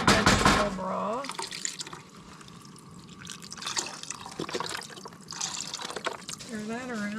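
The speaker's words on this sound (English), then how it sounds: "We have my favorite vegetable broth." Vegetable broth pours into a camping pot in the woods, a steady liquid trickle and splash running for several seconds, with a person speaking over it.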